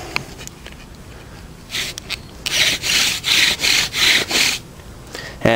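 Bow drill spindle rubbing against a wooden fireboard for a primitive bushcraft fire, a run of rhythmic back-and-forth squeaky scrapes, close and fairly loud, each stroke evenly spaced.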